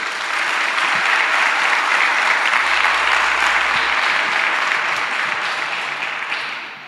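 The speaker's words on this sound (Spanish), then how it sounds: "¿Qué tal si le da un aplauso al Señor?" A church congregation breaks into sustained applause at a Holy Week service, a steady, dense wash of clapping that fills the room at even loudness and fades slightly at the end.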